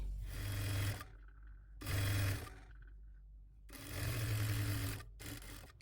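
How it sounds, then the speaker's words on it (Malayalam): A sewing machine stitching a shawl in three bursts of steady whirring, close and fairly loud, each run stopping abruptly with quiet gaps between them. "ഒന്ന് ലോക്ക് ചെയ്ത് തയ്ച്ചിട്ട് സ്ട്രെയിറ്റ് ആയിട്ട് ഇങ്ങനെ തയ്ച്ച് കൊടുക്കുക"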